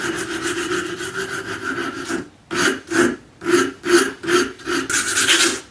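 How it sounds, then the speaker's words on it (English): A file wrapped in fresh 80 grit emery cloth is rubbed over a steel bicycle fork crown, first in a continuous rasp, then in distinct rhythmic back-and-forth strokes, close and clear with no talk. "we'll take some pretty sharp, pretty fresh 80 grit emery cloth. Wrap the file in it and really kind of smooth it out."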